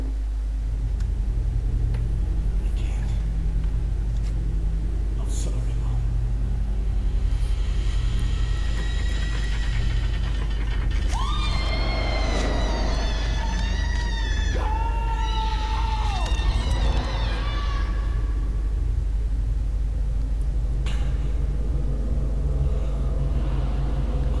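Grinding, whirring torture machine mechanism in the Silent Hill video game, a steady low mechanical rumble with rising metallic screeching tones in the middle, no voices.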